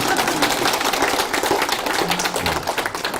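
A lecture audience at Bongeunsa Buddhist temple's Buddhist college claps together, a loud, dense burst of many hands that holds steady throughout the room.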